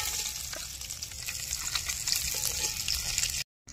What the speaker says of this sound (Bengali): এই যে ডিমের কারি করার জন্য পেঁয়াজটা দিয়ে দিলাম।